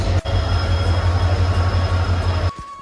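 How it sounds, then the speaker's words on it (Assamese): A passenger train rumbles steadily at close range, a deep continuous roar with a faint high whine, dropping off abruptly near the end. "আমি ৰঙিয়াত ট্ৰেইন চেঞ্জ কৰিলোঁ আৰু এইখন ট্ৰেইনত উঠিলোঁ"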